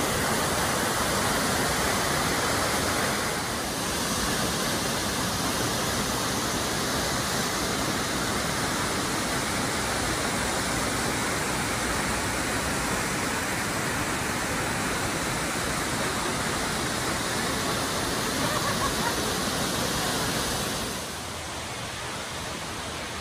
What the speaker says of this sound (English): this is the waterfalls we're gonna go see